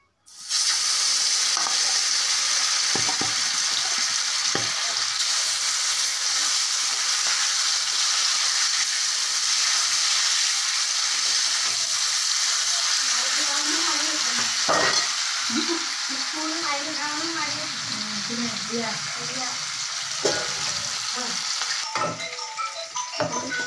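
Fish pieces fry in hot oil in a pan for an Assamese fish curry, giving a loud, continuous sizzle close up, with occasional clicks and scrapes as they are stirred.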